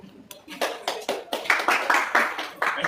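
An audience at a debate claps in a series of sharp, separate bursts, roughly one every half second, loud and close.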